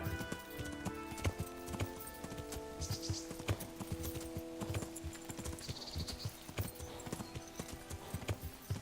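Horse hooves clip-clopping in the medieval video game Kingdom Come: Deliverance, a steady run of close, rhythmic hoofbeats with a brief whinny-like note, heard over game music and without talk.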